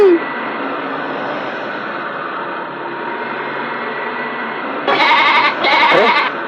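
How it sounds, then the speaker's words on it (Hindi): Goat bleats twice in close succession near the end, two loud nasal cries standing out over a steady background hiss, with no talking. "बकरी के चिल्लाने की आवाज आ रही है"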